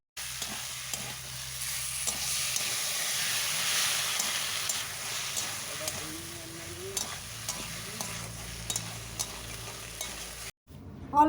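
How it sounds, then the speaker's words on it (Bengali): Drumsticks, eggplant and potato stir-fry with spices in a hot pan, a close steady sizzle with repeated scraping and stirring knocks over about ten seconds, ending in a brief gap and a clatter. "এরপর দেব ভেজে রাখা সজনে ডাঁটা আর বেগুন দিয়ে ভালোভাবে আরও আমি কষে নেব"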